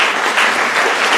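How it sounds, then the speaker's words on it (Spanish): A brief, dense burst of audience applause at a hospital general session on geriatric patients: close, full clapping that lasts just over a second. "Un aplauso, por favor."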